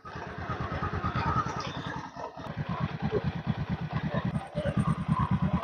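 A motorcycle engine pulses in a steady low rhythm as the bike pulls away slowly while the learner eases out the clutch. It sounds close and fairly loud, dips briefly, then picks up again with a faint voice in the background.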